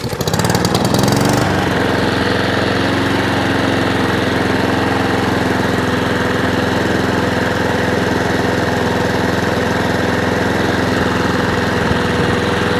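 A small lawn mower engine starts with a rough burst, then settles into a steady, close, droning idle that runs on without a break.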